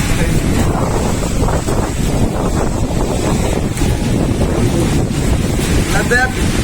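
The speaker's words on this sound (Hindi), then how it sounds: "हवा जो है उससे ज्यादा चल रहा है" Strong wind gusts hard against the microphone outdoors, a loud, continuous rumbling roar that never lets up across the whole stretch.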